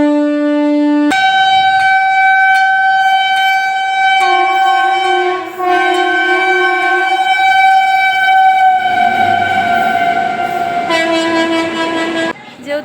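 A train at a railway station sounds long, loud horn blasts that overlap and shift in pitch, almost without a break for about thirteen seconds, up close and over faint background noise.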